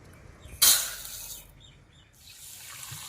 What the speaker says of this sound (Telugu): ఈ బియ్యాన్ని రెండు మూడు సార్లు కడుక్కోవాలండి